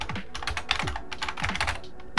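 Rapid, steady typing on a computer keyboard while entering a search, a dense patter of close keystrokes with a faint low voice murmuring underneath.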